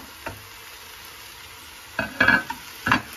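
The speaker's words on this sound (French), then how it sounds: "On mélange." Spices stirred into a hot pot after onions and a cinnamon stick have sweated, a quiet sizzle followed by three loud scraping stirs of a spoon against the pot, close up and without talk.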